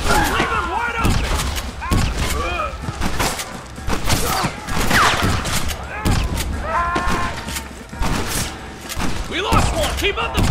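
Rapid gunfire firefight in Red Dead Redemption, dense bursts of shots and thuds overlapping throughout, loud and close, with voices talking over the action.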